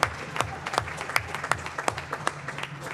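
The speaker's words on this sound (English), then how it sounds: "one more round of applause for these wonderful principals" An audience at a school board meeting claps for school principals, a steady round of applause with distinct sharp claps at a fairly even rhythm, close and clear.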